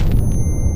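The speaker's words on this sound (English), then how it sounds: "Grenade." Grenade blast in the VR game Animal Company, a loud, dense low boom filling the whole short moment without a break, close and heavy.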